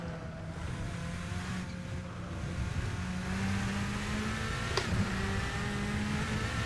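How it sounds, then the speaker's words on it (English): A prototype endurance race car engine, raspy and throaty, drones steadily in Assetto Corsa VR with a rising rev tone over several seconds, moderately loud and continuous without speech. "the car sounds absolutely amazing. Love the raspy, throaty sound."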